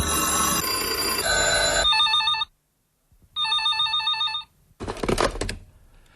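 At a radio station's newsroom, a telephone rings loudly in two distinct electronic bursts separated by a short silence, followed by a brief clatter as the handset is picked up.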